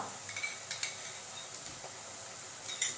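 Ginger garlic paste is stirred in hot butter and oil over onions for paneer bhurji, giving a steady soft sizzle with a few light clinks of a spoon against the pan.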